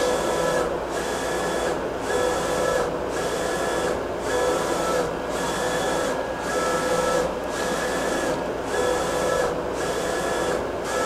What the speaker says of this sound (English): Press enter, and the print will start.